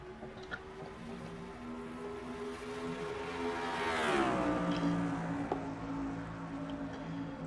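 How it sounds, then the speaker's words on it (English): Pickup-style race trucks from a racing video game thunder around the Monza road course, a steady loud engine drone that rises and then drops in pitch as a pack sweeps past midway, continuing without talk. "they're gonna find out how Americans go truck racing here on this over 3-mile road course here at Monza"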